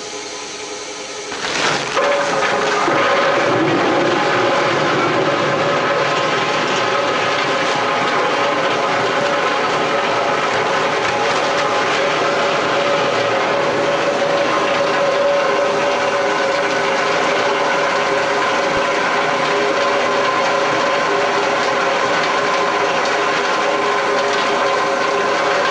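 A Quadro 196 Comil mill spins up at 650 RPM to delump tart apple pieces, starting with a sharp onset and then settling into a loud, continuous mechanical whir with faint rattling throughout.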